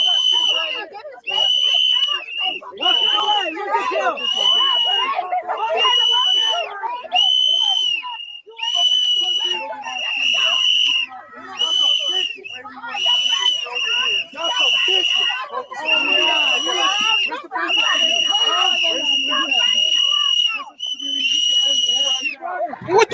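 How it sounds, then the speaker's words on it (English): Shrill whistles blown by protesters at a street demonstration shriek repeatedly and loudly over a dense, chanting crowd, with shouting voices throughout. "What the hell them whistles gonna do?"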